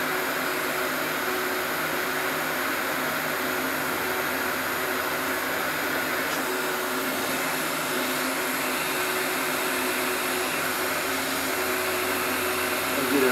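A heat gun blows hot air onto the painted hood of a 2014 Chevrolet Cruze, a steady, unbroken close roar of airflow that lasts throughout.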